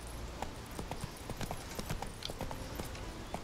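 The horse Roach trots along a road in The Witcher 3, hooves clopping in a steady, even rhythm that stays close and clear with no voices.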